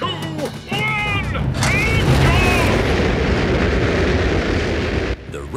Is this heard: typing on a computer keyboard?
no